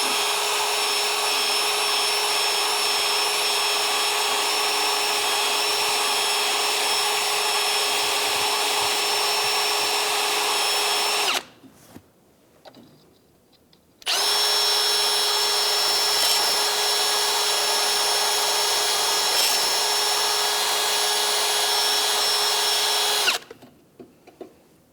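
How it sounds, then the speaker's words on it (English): Bore brush spun by a power drill to clean the caliper slider pin holes on a 2010-2013 Ford Transit Connect front brake, a loud, steady high whine in two long runs separated by a brief pause, with no talk. "That's easily done with a bore brush."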